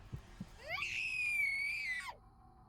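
A person lets out a single long, high-pitched scream lasting over a second, rising sharply and then dropping away, preceded by a couple of faint thumps in a quiet setting.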